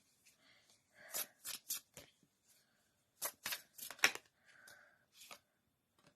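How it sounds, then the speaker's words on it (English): Crisp riffling bursts of tarot cards being shuffled, several quick flurries with short pauses between them, close and clear with no talking. "I'm just shuffling the cards"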